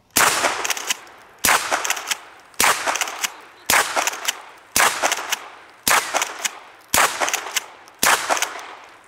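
Eight loud, sharp shotgun blasts from a Smith & Wesson M&P 12, fired at an even pace of about one per second, with a short decaying echo after each report.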